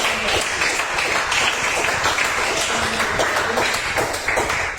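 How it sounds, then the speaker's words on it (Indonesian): Audience clapping after a student's speech in a classroom or school presentation, a dense, steady wash of many hands beating fairly close for the full stretch with no voices over it. "Oke, tepuk tangan dulu."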